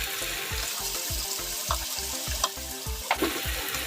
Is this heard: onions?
yes